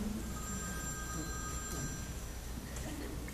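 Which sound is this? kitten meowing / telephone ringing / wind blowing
telephone ringing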